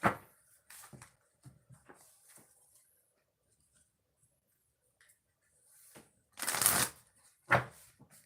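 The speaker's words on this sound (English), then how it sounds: "2 shuffles for Leos" A deck of oracle cards is shuffled by hand in two quick bursts of riffling and flicking, with a quiet pause between them, close by, and no voice.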